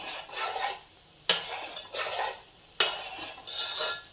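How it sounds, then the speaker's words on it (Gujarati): Homemade Gir cow ghee being stirred in a metal pot, a spoon scraping the bottom in repeated rhythmic strokes, close and clear, with two sharper clanks against the pot. "હલાવતું રહેવું પડે નહીં તો નીચે દાજી જાય પાછું તો હલાવતું રહેવાનું"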